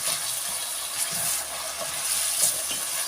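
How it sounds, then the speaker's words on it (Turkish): Red and green peppers sauté in a pot, giving a steady soft sizzle and hiss with faint stirring scrapes throughout the short stretch. "Şu an hepsini aynı anda soteleyeceğim."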